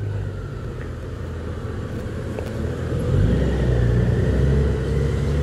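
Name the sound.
Honda Goldwing 1800 touring motorcycle riding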